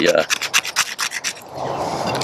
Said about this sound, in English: Or maybe we can just scrape off of it. We can get some nice little scrapings here.